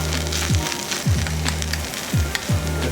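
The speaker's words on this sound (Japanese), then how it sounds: "器で焦げる音と香り" Stone-pot bibimbap sizzling and scorching in a hot stone bowl at a restaurant in Seoul, a steady loud crackling hiss up close with a repeating low rhythmic tone underneath.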